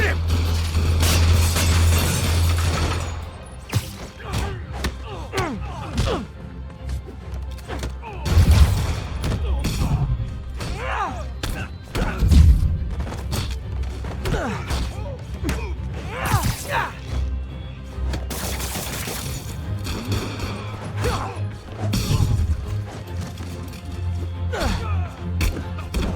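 Gunfire erupts in the Marvel's Spider-Man Remastered video game during a robbery fight, bursts of shots mixed with thuds, whacks and crashes over a game soundtrack, with brief shouted voices in between.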